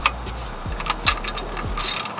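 A ratchet wrench tightens an oil pan bolt on a 2006-09 Ford Escape: several short bursts of quick, close metallic clicking, a few separate pulls, with a light rattle at the end.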